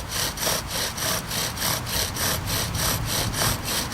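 A wooden privet spindle grinds in a bow drill for friction fire, a loud rasping back-and-forth stroke repeating steadily about twice a second, close and continuous.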